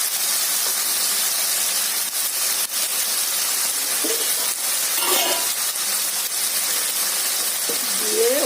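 Bhindi (okra) and prawns stirred in a frying pan, giving a steady broadband sizzle and hiss with occasional scraping stirs, close and continuous, and a voice briefly heard near the end.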